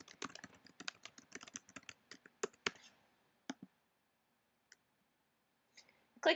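Typing on a computer keyboard: a quick run of close, crisp key clicks for about three seconds, then a few scattered taps separated by quiet gaps, with no talking.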